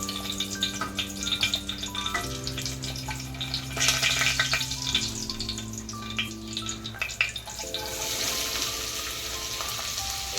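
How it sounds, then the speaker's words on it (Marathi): Cumin seeds and a single bay leaf crackle and sizzle steadily in hot oil for a vegetable kurma, a continuous close frying hiss with occasional stirring under background music. "तेल आपलं तापलेलंच आहे. त्यात आता आपण ऍड केलेलं आहे जिरं आणि तमालपत्र."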